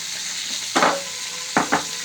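Washed green chilies, slit and dipped in salt, hit hot frying oil: a steady soft sizzle with three sharp crackling bursts as pieces go in, close by and without speech.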